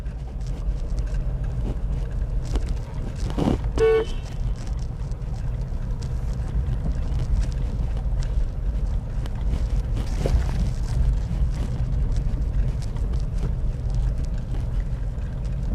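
A car driving in second gear gives a steady, loud low rumble of engine and road noise with wind buffeting throughout, and a brief higher tone near the start.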